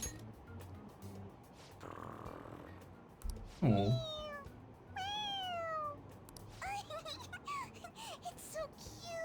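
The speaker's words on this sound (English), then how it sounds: "even if he speaks, it sounds like meowing" Morgana, the cat character in the Persona 5 Royal video game, lets out several rising and falling meows, near and clear, over a background game soundtrack, with a brief exclaimed voice partway through.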